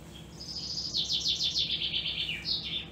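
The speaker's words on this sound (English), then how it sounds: "It's a bird chirping." Bright, rapid bird chirps repeat in quick trilling bursts over a steady low hum, fairly close and clear, with no talking.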